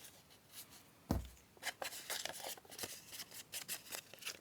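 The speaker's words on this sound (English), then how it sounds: "I'll just tidy this bit up here by cutting away this bottom piece here." Scissors snip through a wax paper and ephemera piece for a junk journal page, a run of close, crisp cuts in quick rhythmic succession with no talk.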